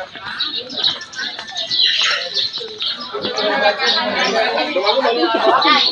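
Birds chirp and tweet among lively human chatter, their calls bright but partly buried beneath nearby voices.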